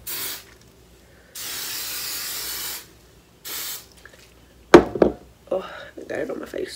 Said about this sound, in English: Well, actually, I'm going to spray my hair first.